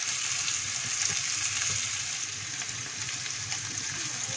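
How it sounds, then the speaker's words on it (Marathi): Cluster beans (gavar) dry-roasting in a pan over a low flame give a steady, soft sizzle with faint crackles throughout, at an even level with no voices. "यामध्ये आता गवारी घालूया आणि गवारी देखील आपण आता भाजूया"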